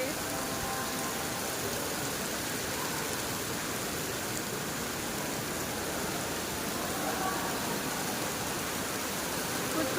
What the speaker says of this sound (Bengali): বাইরে কিন্তু মুসলধারে বৃষ্টি হচ্ছে